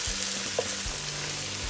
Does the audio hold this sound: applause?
no